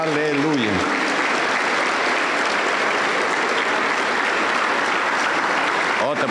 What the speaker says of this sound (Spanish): Aplausos para el Señor Jesús.